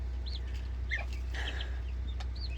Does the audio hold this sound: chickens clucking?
yes